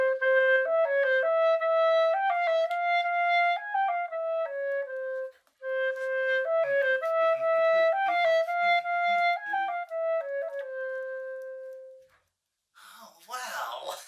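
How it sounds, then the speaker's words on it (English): Solo clarinet plays a lively klezmer melody, close and bright, in two flowing phrases of quick ornamented notes, followed by a brief murmur of voices at the end. "another one that's very popular is what's called klezmer music,"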